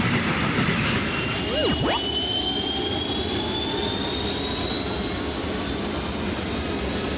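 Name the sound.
high-speed train passing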